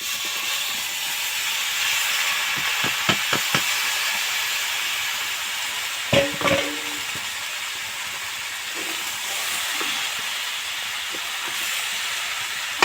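Boiled vegetables, including pumpkin, are stirred slowly into spice paste frying in oil, giving a steady broad hiss with a few soft knocks of the spoon against the pan.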